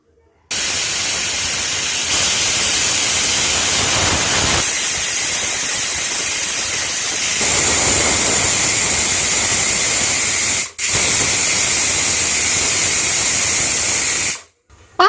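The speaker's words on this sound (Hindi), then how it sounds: "गैस पे मैंने कुकर रख दी है। अब इसमें 5 सीटी आने देते हैं।" Pressure cooker on a gas stove boiling black chickpeas, giving a loud, sustained hissing steam whistle that runs almost unbroken for about fourteen seconds, with one brief cut near the end.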